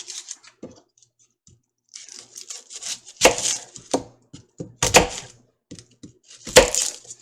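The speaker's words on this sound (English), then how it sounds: "All I'm going to do is just rough cut these onions." A knife rough-cutting fresh onions into big chunks on a cutting board: irregular close thunks and chops, some sharp and loud, with short pauses between cuts.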